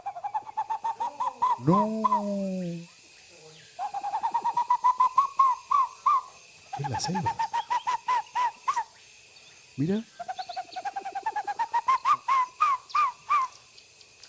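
A man whistles an imitation of an owl's hoot, repeating rapid, warbling whistled phrases with short breaks, close and clear, while other people talk briefly between the calls.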